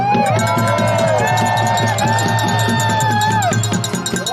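A large crowd at an outdoor freedom rally cheers and whoops loudly and continuously, with yells and babble layered over a dense roar that stays up close for the whole stretch.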